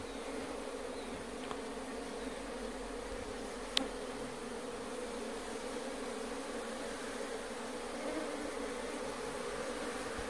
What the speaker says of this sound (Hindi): मधुमक्खी को हम डाल रहे हैं